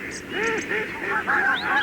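Geese and ducks honk and quack in a quick run of calls in a children's animated story, loud and close, with a few overlapping cries.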